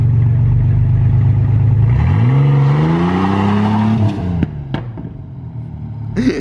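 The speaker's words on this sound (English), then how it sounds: "That little backfire." A car with a Honda K series engine idling, then revving up as the pitch climbs. As the revs fall away, a few sharp popping backfires break through.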